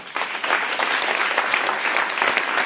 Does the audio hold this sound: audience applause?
yes